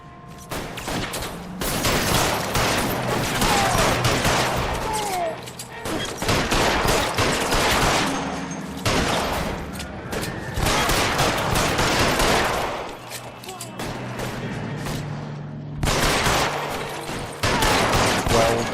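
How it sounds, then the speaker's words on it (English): Video game gunfire in L.A. Noire during a shootout with security men: dense, repeated shots in bursts throughout, loud and close, with brief lulls between volleys and a voice talking faintly underneath. "Fire a warning round."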